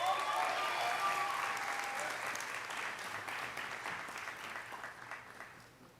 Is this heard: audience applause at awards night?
yes